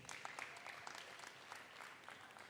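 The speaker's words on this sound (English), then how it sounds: "Can we give a round of applause once again?" An audience at an empowerment seminar gives a steady, continuous round of applause, many hands clapping together at moderate loudness for the whole stretch.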